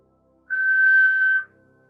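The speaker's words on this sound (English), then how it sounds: "you're going to inhale slowly through your nose, and you're going to exhale, whistle." A single steady whistled exhale during yoga breathing practice, one clean tone lasting about a second, close and clear against near silence.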